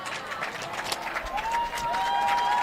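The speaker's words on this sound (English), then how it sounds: "The home fans here at Davis High School on their feet, cheering on their team as the clock winds down" Home fans at a Davis High School football game cheering and clapping from the stands as the clock runs down, a broad, moderate crowd roar with scattered applause and an announcer speaking over it.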